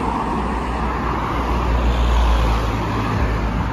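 Cars pass along a street in Famalicão, Portugal: a steady, loud wash of road traffic with engines and tire noise, a low rumble swelling midway as a heavier vehicle goes by nearby.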